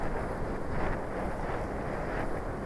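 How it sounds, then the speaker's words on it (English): Steady wind rushes across a coastal soaring slope during an RC glider session, a continuous broadband roar with a slight surge and no voices. "The wind has just strengthened."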